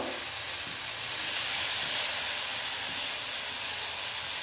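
Vegetable paratha batter poured into hot oil on a pan, giving a continuous hissing, steamy sizzle that stays even and close, swelling slightly after the start, with nobody speaking.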